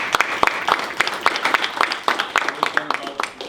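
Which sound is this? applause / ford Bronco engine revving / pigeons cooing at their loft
applause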